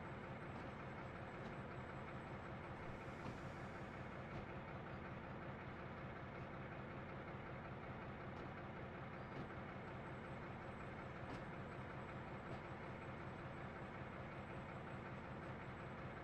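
DB BR 204 (V100 Ost) diesel locomotive from Train Sim World, rolling slowly with a low steady engine rumble and faint rhythmic rail clatter, quiet and continuous.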